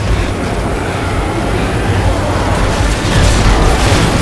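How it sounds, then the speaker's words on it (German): A train is knocked over in Resident Evil 6, a loud, sustained crashing roar of broad rumbling noise that swells toward the end. "Der schmeißt den Zug einfach um!"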